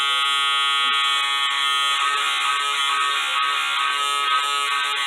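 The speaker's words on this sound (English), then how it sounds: "So I'll take the trimmer." Electric hair trimmer cutting hair during a home haircut, a steady loud high-pitched buzz running throughout with slight wavering as it moves over the head.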